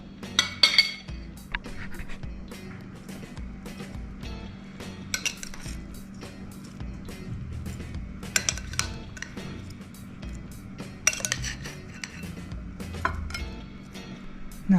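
Dishes and cutlery clink steadily as food is plated up, broccoli salad, tomatoes and leftover mac and cheese set on a bed of green salad mix, with scattered sharper clatters and scraping throughout, no talking.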